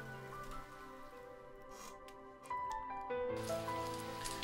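Rain falling in the Muv-Luv EXTRA visual novel, a soft continuous patter running under gentle melodic background music.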